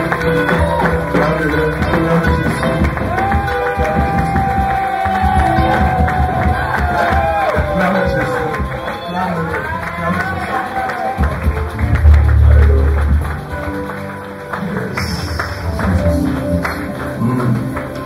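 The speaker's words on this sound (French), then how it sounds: "Est-ce que tu peux simplement acclamer Jésus?" A church congregation cheering and shouting praise to Jesus, with loud overlapping crowd voices, whoops and some clapping, and a singing voice rising over the noise.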